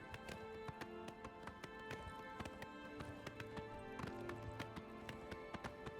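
A horse's hooves clip-clop in The Elder Scrolls IV: Oblivion, a steady rhythmic string of sharp taps at walking pace over a continuous low musical background, with no voices.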